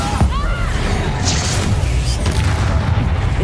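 A Bombarda explosion spell in the Hogwarts Legacy video game booms out loudly near the start, followed by a continuous heavy rumble and crash of battle noise.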